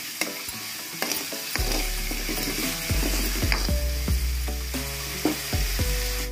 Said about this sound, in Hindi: प्याज को अच्छे से भून लेंगे